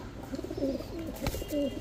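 A pigeon on a farm coos in short low repeated notes over a steady background hum, close and moderately loud.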